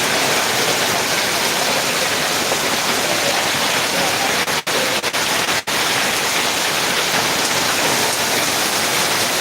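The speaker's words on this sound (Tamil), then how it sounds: "காற்றோட மழையும் அடிக்குது" Heavy rain driven by wind pours down in a steady, loud, dense roar that fills the whole stretch at night in Ariyalur, with no voices.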